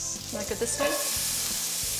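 Shallots sizzle in duck fat in a frying pan over medium heat, a soft crackling hiss running steadily underneath a brief spoken remark.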